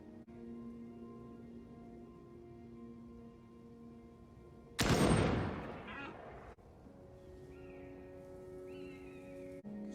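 A single rifle shot in a TV drama scene, a sharp loud crack with a short ringing decay standing out from quiet background music and rain-like ambience.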